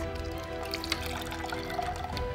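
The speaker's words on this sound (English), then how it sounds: "I'm going to take the sponge and I'm going to soak up as much water as I can and try to fill this glass" Water squeezed from a soaked sponge pours and dribbles into a drinking glass in a soft, continuous stream with small splashy drips. It is close and fairly quiet over a faint background hum.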